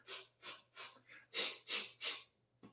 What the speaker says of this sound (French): la respiration forte par chacune des narines